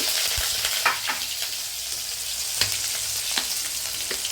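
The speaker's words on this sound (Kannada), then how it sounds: "ಎಣ್ಣೆ ಕಾಲೈತೆ, ಸಾಸಿವೆ ಹಾಕಬೇಕು, ಜೀರಿಗೆ ಹಾಕಬೇಕು, ಕರಿಬೇವಿನ ಸೊಪ್ಪು ಹಾಕ್ತಾ ಇದೀವಿ" Mustard seeds, cumin and curry leaves crackle and sizzle in hot oil for an okra rasam, a steady frying hiss with several sharp pops and spits scattered throughout, close and without speech.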